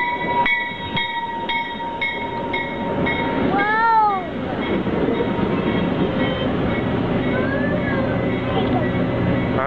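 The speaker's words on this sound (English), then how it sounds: "Let's get on the train." A train rolls past with a rumbling, clattering roar, preceded by repeated chime-like tones and a brief high squealing sweep; people talk over it.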